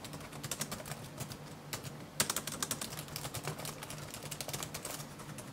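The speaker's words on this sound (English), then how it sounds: "Yes, the keys are plasticky and way noisier than I'm used to, as you can hear for yourselves here." Typing on the plasticky keys of an Asus X550 laptop, a rapid stream of sharp, clattery keystrokes with uneven rhythm and a louder clack midway, close and moderately quiet.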